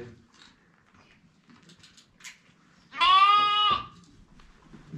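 A lamb bleats once, loud and close, a single sustained wavering cry of about a second amid quiet farm surroundings; the lamb is being checked for lung disease.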